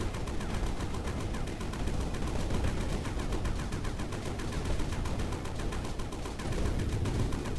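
Rapid, continuous gunfire from a gun used for mining through soil deposits in the video game Sandustry, a dense rattling stream of shots holding steady at even loudness for the whole stretch with no talk.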